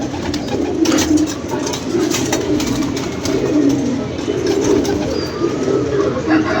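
Pigeons coo in a loft, including a white pigeon, a steady, close, low throaty chorus with the birds' soft calls swelling and fading, with no clear talking over them.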